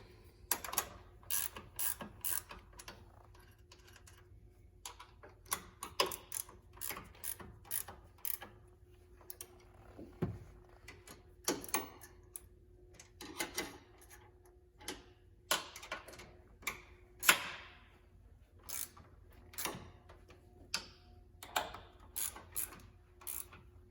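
Bolts being tightened on the foot of a swivel loading ramp fitted in a Ford Transit van, a series of close, sharp metallic ratcheting clicks and clanks in irregular bursts, with no talking.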